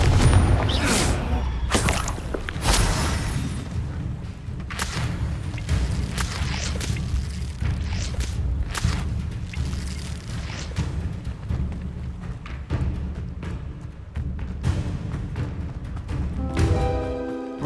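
Confringo fire-spell blasts in Hogwarts Legacy: a series of booming explosions with whooshing bursts that repeat every second or so, loud and close, alongside a game score and one short spoken spell name.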